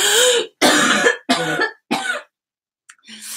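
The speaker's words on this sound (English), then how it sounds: "if I have a cough, I'm going to go like this" A person coughs and clears their throat several times in quick bursts, close and loud, with brief pauses between.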